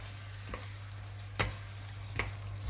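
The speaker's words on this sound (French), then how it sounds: "Ensuite, je vais mélanger." A spoon stirs a pot of Maahlox kondre, a quiet background hiss broken by a few distinct scraping strokes spaced irregularly, with a faint steady hum underneath.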